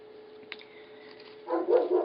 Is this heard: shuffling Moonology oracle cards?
no